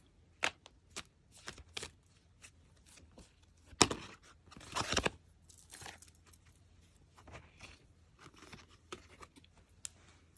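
Tarot cards being shuffled and drawn for a general pick-a-card reading: a series of crisp slaps, flicks and riffles close by with quiet gaps between them, including one longer dense riffle burst midway, and no talking.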